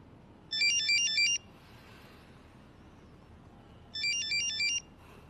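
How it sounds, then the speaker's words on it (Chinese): An unanswered phone ringtone rings in two electronic bursts with a quiet pause between them, clear and fairly close, with no voices present. "怎么不接他电话？"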